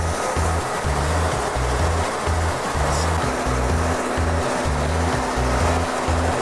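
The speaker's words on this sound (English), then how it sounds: "the particle counter will be flushing the fluid until the moisture sensor has been calibrated" A particle counter flushes hydraulic fluid in an automatic cycle, producing a loud, steady rushing and whooshing of liquid with a pulsing low mechanical hum beneath it, continuous and close.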